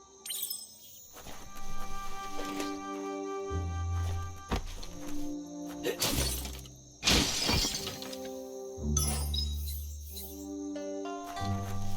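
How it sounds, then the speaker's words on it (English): A box being smashed to pieces in the video game Biomutant: several sharp, loud shattering crashes spread across the stretch, with game music and background tones between them. "You shouldn't worry about smashing up the box."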